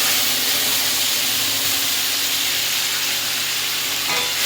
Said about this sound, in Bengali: একটুখানি এটা হালকা ভেজে নিতে হবে